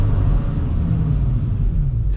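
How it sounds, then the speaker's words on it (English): A BMW E60 M5 fitted with a carbon plenum gives a deep, loud, continuous engine rumble and roar, dense in the low end and steady for a couple of seconds with no voices over it. "Those downshifts are brutal."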